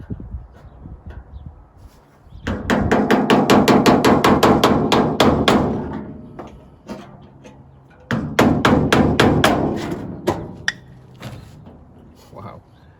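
A hammer strikes in two long rapid bursts of sharp, evenly spaced metallic blows, working on the locked trunk lid of a 1936 Chevrolet, with quieter gaps and background noise between the runs.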